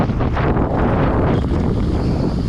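Strong wind buffets the microphone while riding outdoors, a loud continuous low rumble and roar with no voices over it.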